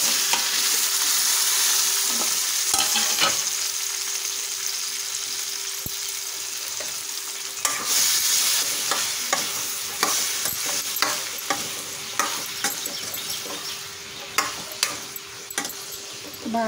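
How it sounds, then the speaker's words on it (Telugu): Half a kilo of ivy gourds fry in a little oil in a kadai, a constant hiss of sizzling broken by sharp clinks and scrapes of a ladle stirring, growing more frequent toward the end. "ఇప్పుడు దొండకాయలు వేయించుకోవడమే."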